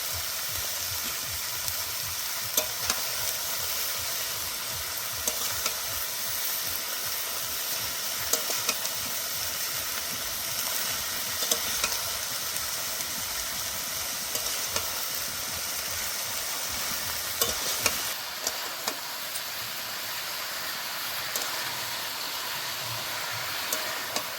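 Cabbage stir-fried in a pan for a Kashmiri-style cabbage dish gives a steady, close sizzle with scattered scrapes and clicks of stirring across the whole stretch, with no talking.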